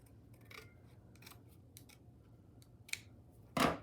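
Scissors snipping a paper tag into a coffin shape, a few quiet crisp cuts spaced apart, ending in one louder closing snip, close up in a quiet room.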